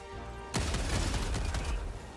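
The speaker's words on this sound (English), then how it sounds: "You dove literally right on top of a grenade" A grenade blast in the shooter game Helldivers 2 bursts in suddenly, a loud deep boom that merges into dense rapid gunfire and crackling for over a second before easing off.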